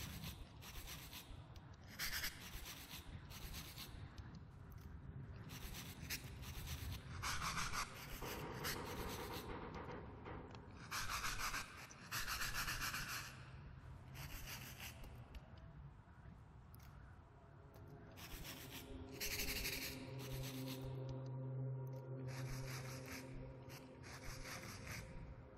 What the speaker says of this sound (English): Brush some of this dirt off.